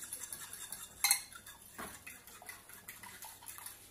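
Butter stirred in a hot frying pan with a utensil, giving light metallic clinks and scrapes at an irregular rhythm, with one sharper knock near the start; fairly quiet and close, with no voices.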